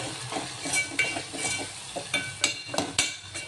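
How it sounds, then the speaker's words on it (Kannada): Okra fries in oil with turmeric, salt and chili powder, giving a soft continuous sizzle while a spoon stirs and scrapes the pan with light clinks, close up and without talk. "ಇದನ್ನು ಎಣ್ಣೆಲಿ ಫ್ರೈ ಮಾಡ್ಕೊಳ್ರಿ."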